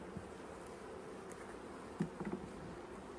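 Honey bees hum steadily around a hive during a queen check, a constant close buzz with a few louder wingbeat bursts from bees passing near, and no voices.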